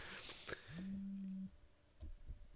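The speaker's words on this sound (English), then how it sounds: "Larry's phone has a very distinct vibration" A phone buzzing against a tabletop during a podcast recording: a single steady low hum lasting about three-quarters of a second, close by, with faint room noise and brief knocks around it.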